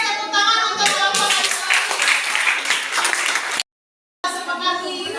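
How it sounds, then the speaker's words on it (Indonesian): A classroom of students claps for a presentation group, close and lively hand-clapping with a brief gap of silence before the clapping picks up again. "tepuk tangan untuk kelompok"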